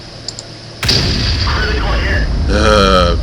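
Artillery fire in the World of Tanks video game: a heavy, sudden boom lands about a second in and rolls into a sustained loud rumble, with a voice talking over the tail end.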